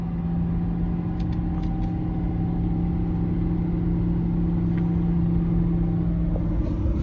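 A 2023 Ford 6.7L PowerStroke diesel pickup running with its exhaust brake engaged above 2,500 rpm, a steady loud droning rumble with a sustained low tone throughout and no speech.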